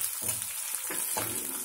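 Chana dal, urad dal, green chillies and curry leaves sizzle in hot oil as tempering for mango pulihora, a soft continuous frying hiss with a few stirring scrapes, close and fairly quiet, no voices.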